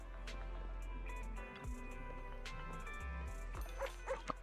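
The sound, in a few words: dog barking and whimpering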